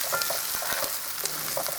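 Potatoes land in a hot pan for Kenyan fried rice and set off a steady, bright sizzle with light stirring clicks, close and continuous, with no voices.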